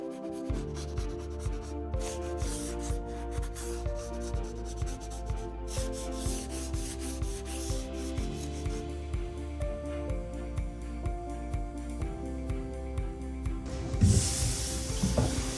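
Power sander working over a milk paint finish on wood, a close continuous buzzing rub with a regular pulsing rhythm, ending in a brief burst of hiss.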